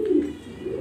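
A top-quality breeding pair of pigeons coos in a loft, with low, rolling calls that swell near the start and return toward the end, close and moderately loud.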